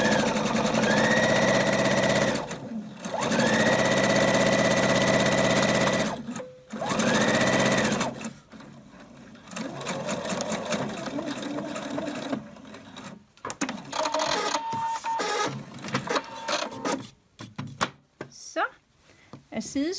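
Sewing machine stitching with elastic thread, running in several loud steady bursts of a few seconds each, with a quieter stretch of intermittent stitching and handling noise after, under occasional talk.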